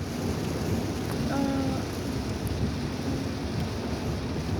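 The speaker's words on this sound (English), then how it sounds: "And the rain has lightened up a bit." Rain falls on a car during a night ride, heard from the backseat as a steady, even hiss with a low rumble underneath. It stays constant throughout, with no one talking.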